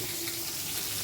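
Fish frying in oil in a pan, a steady close sizzle and crackle that continues without pause, with a faint hum underneath.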